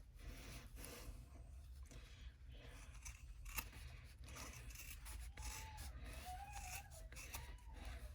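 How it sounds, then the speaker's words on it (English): Scissors snip through fabric for a small embroidered mini wallet, with repeated close, faint crisp cuts and rubbing of cloth over a quiet background. "now I can pull it down and finish cutting it"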